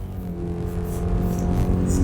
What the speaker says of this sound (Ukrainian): Зараз ми з вами пробуємо розгін від нуля до сотні.